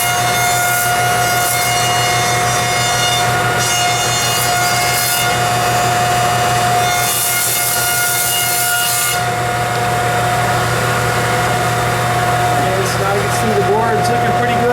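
A woodworking machine cuts along a board for a tile-top table base, a steady loud whirring drone with a bright hum and shifting rasp as the wood passes through; a voice is heard briefly.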